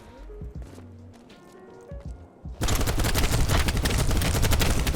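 An LMG machine gun opens up in BattleBit Remastered after a couple of seconds of quieter clicks and menu tones, then fires a loud, sustained automatic stream of rapid close shots until the end.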